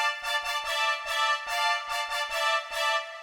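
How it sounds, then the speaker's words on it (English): A hard trumpets synth preset in FL Studio playing punchy, bright brass stabs in a rhythmic pattern for a trap beat, loud and up front with no voices. "this time grab the hard trumpets preset, and here's what they sound like"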